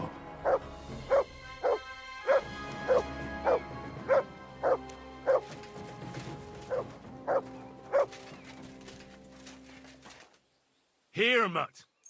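A dog in Kingdom Come Deliverance 2 barks repeatedly in a steady rhythm, about ten sharp woofs over game music and ambience, closing with a louder whining yelp.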